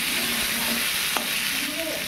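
Potato and papaya pieces frying lightly with salt and turmeric, a continuous close sizzle with stirring scrapes and one sharp utensil click near the middle.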